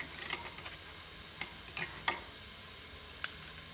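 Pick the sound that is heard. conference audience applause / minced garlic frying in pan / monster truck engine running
minced garlic frying in pan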